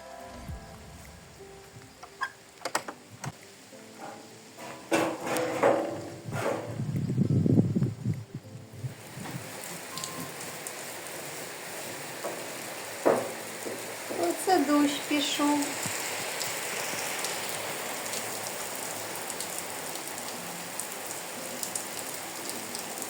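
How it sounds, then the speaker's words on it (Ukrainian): Steady rain patters on a surface with a broadband hiss at a village house, while a few bursts of nearby activity and faint voices come through early on. "Перейшли сюди, почався дощ."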